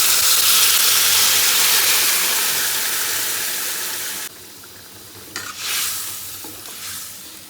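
Loud, steady sizzling of catfish curry frying in a pan, with spices and a little water added, crackling broadly at first, then dropping suddenly quieter before brief renewed bursts of hiss.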